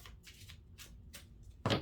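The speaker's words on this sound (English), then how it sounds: "One more shuffle." A deck of tarot cards is shuffled, with several soft quick riffling bursts at a moderate pace, followed by a louder sharp slap of the cards at the end, close and fairly quiet.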